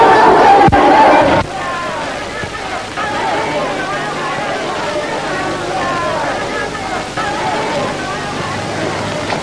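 A crowd of petitioners gathered outside makes a loud burst of clamouring voices at first, then settles into a steady murmur beneath a man's dialogue in a 1959 Hindi drama film.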